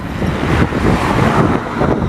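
Headwind buffets a cyclist on a coastal road ride, a steady loud rushing roar of wind against the microphone with a dull low rumble underneath and no talking.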